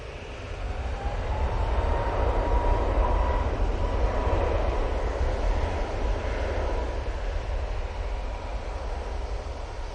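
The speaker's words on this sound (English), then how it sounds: "Easyjet, going to get turn and burn here. Going off to Marrakesh using their A321neo." An easyJet Airbus A321neo departs Manchester Airport for Marrakesh, a loud, steady engine roar that swells and then holds as a broad rumble, with no voices over it.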